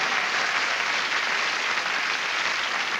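Studio audience at a game show applauding a new contestant, a dense, steady burst of clapping filling the room throughout with no voices over it.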